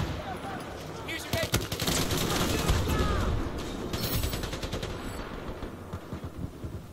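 Rapid automatic gunfire and scattered shots fill a chaotic Battlefield 4 firefight, loud and continuous bursts with crashes in the mix and voices talking over the action.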